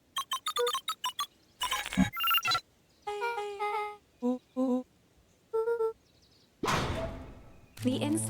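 Keypad presses in the Beacon Pines video game, a quick run of short bright tonal beeps followed by longer tones and whooshing effects, with game sounds but no talk.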